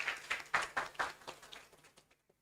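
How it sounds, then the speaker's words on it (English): Sparse clapping at an international postgraduate student conference, a handful of quiet, distinct claps in a loose rhythm that thin out and stop after about two seconds. "please give applause for our three speakers"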